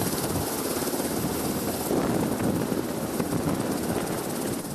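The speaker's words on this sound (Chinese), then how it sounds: "两架直升机慢慢飞进台中逢甲大学的航空运动场，了后由 UH-60M 乌鹰直升机领航，" A UH-60M Black Hawk helicopter comes in to land at a university sports field in Taichung, a loud, steady rotor and engine roar that holds strong throughout with no speech over it.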